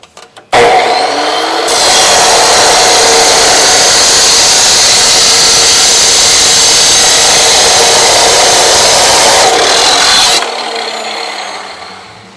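A power tool cuts metal pieces for a channeled Model A roadster in a workshop, one loud continuous whining grind lasting about nine seconds after a few short starts, then winding down.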